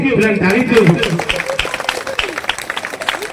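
An audience at a school annual function claps steadily, a dense patter of many hands continuing under loud announcer speech over a public address system.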